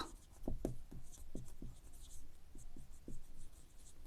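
A pen or pencil writes a maths answer about the ratio of a triangle's angles in quiet strokes and taps, with short scratchy marks in an irregular rhythm close by and no voice.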